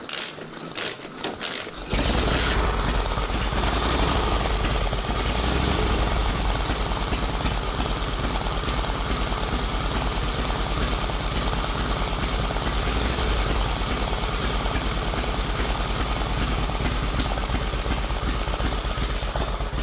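A vintage Traub side-valve motorcycle engine fires after a kick start, then runs loud and steady with a rapid, chugging beat close by, with no talk.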